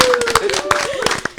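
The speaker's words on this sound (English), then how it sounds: "Can I get a round of applause for the Lex Ladies?" Scattered audience clapping at a live talk event, sharp uneven hand claps close by mixed with a cheering voice and crowd noise.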